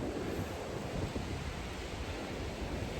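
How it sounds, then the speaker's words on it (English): Strong wind on a mountain ridge roars steadily against the microphone as a dense, continuous rushing noise that stays loud throughout, with no voices. "they are protecting me from this hellacious wind."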